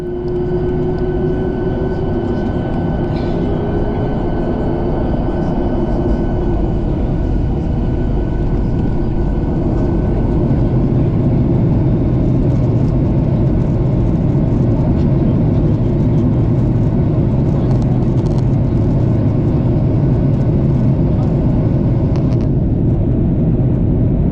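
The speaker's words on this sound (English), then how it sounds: "we are going to listen to the takeoff with the original sound here at the airport of Gran Canaria" A TUIfly Boeing 737-800 takes off from Gran Canaria airport, its jet engines producing a loud, steady roar inside the cabin that swells and holds through the takeoff roll and climb.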